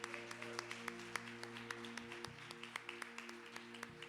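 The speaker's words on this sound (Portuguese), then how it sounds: "Aplauda bem forte ao Senhor Jesus" A church congregation claps steadily during a live worship service, each beat sharp and evenly spaced over sustained keyboard or organ tones and a broad room wash.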